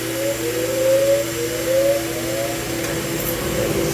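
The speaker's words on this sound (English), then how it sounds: "Turn the blower on." A blower whirs steadily and loudly nearby, a continuous broadband roar with a faint rising whine, running alone with no talk.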